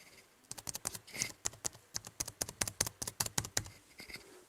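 Typing on the mechanical keyboard of an Eluktronics MAG 15 gaming laptop: a quick run of crisp, clicky keystrokes, close and distinct, with short irregular pauses and no talking.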